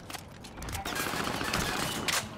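Gunfire in a multiplayer shooter video game, a dense, continuous spray of shots that stays steady and loud across the short stretch, with no talk over it.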